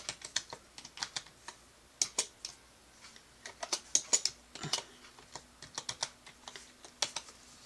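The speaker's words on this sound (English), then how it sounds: "And now we're going to type Carmel and Cordelia." Fingers type on a computer keyboard in quick, uneven bursts of crisp clicks with short pauses, close and fairly quiet in a still room.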